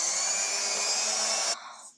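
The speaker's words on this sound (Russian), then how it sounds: "Я, короче, взбиваю." Electric hand mixer whisking sponge cake batter, a steady high-pitched whine running loud and continuous, then cutting off and fading near the end.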